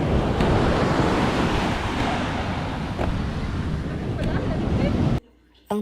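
Strong ocean surf crashes and roars continuously at a New York beach, loud and close with heavy wind buffeting the microphone, before cutting abruptly to quiet near the end.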